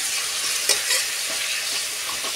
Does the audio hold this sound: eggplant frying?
yes